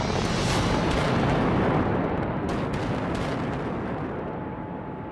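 A huge explosive blast at an iron ore mine, a massive continuous roar and rumble that fills the whole stretch and fades only slowly.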